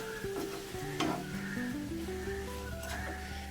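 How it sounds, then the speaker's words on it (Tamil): Mint masala with coriander powder and salt is stirred over low heat in a pan, giving a soft, steady sizzle with a few spatula scrapes and clinks, fairly quiet and without talk. "இனி இது ஒரு 5 மினிட்ஸ் சிம்மிலே போட்டு நம்ம நல்லா வதக்கி எடுத்துக்கலாம்"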